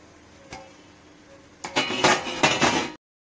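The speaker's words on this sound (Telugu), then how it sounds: "మూత పెట్టేద్దాం. మూత పెట్టేద్దాం." A metal lid is placed on a cooking pot of palak uli karam: one light clink, then after a pause a burst of several rattling metallic clatters as it settles, close and fairly loud, ending abruptly.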